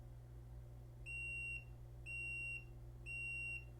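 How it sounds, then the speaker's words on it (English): A Hidalife HL-300L door lock gives three evenly spaced electronic beeps about a second apart during a factory reset, clear and close above a low background hum. "we hear our 3 beeps"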